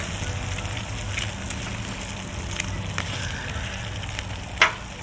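Bacon frying on a Blackstone griddle, a steady crackling sizzle running throughout with scattered pops and one sharper spit near the end, close and moderately loud with no talking.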